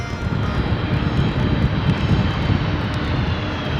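Small airplane engine drones steadily and loudly without pause, a continuous close roar on a flight from Naha Airport to Iejima island in Okinawa.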